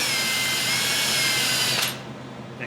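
A power drill whirs loudly as a spinning metal part grinds against a Scotch-Brite abrasive pad, then the drill stops abruptly and winds down.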